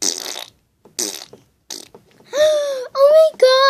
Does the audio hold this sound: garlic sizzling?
no